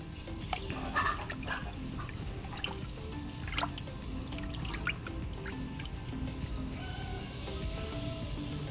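Water being stirred after drops are added while preparing for betta fish breeding, soft irregular drips and small splashes over a steady background hiss, faint and close.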